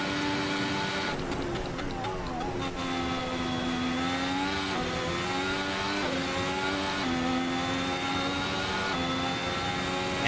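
A 2017 Ferrari F1 hybrid turbo car in the Assetto Corsa racing game produces a loud, continuous high-pitched engine whine that rises and dips through gear changes, with the pitch climbing steadily, and no talking.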